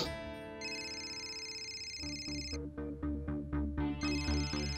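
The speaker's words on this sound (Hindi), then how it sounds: "क्या पता डिटेक्टिव बंटी शर्मा का ही फोन हो" A phone rings with an electronic melodic ringtone, a run of bright, repeating tones and chiming notes that plays steadily and clearly for several seconds, with no one speaking.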